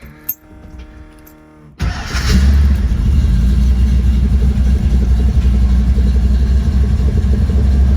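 A 1977 Mustang Cobra II engine catches after a brief crank and settles into a loud, steady, smooth idle with a deep rumble that holds for several seconds.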